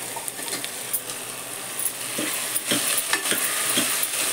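Mixed vegetables for pav bhaji are stir-fried in a pressure cooker: a soft, continuous frying sizzle broken by irregular metallic scrapes and taps of a spatula against the pot.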